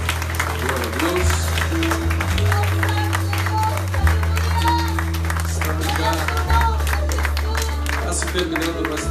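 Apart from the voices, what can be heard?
church congregation applauding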